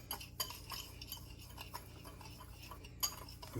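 Cajun seasoning spices being mixed in an airtight container give close, quiet scraping and clinking taps at an uneven rhythm, with no talk.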